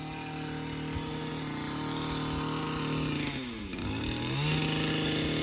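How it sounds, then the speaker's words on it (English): A powered hedge trimmer cuts a hedge in the grounds of a French château, its engine buzzing loud and continuous up close, with the pitch dipping briefly under load before rising again. "I love a good hedge trimmer."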